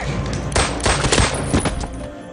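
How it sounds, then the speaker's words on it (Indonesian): Rapid bursts of film gunfire, a loud close fusillade of overlapping shots cracking in quick succession over about two seconds, with no talk. "Mendengar suara gaduh tembakan, Jack langsung menyadari jika kelompok Andre telah datang."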